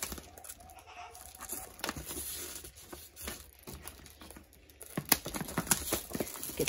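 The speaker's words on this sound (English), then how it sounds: "Get the plastic wrap off." Plastic wrap is peeled and torn off a storage container up close, producing irregular crinkling, rustling and scattered crackles at low volume.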